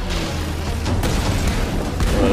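Heavy explosions boom in the action game Tomb Raider, forming a loud, dense wall of rumbling blasts that continues without a break.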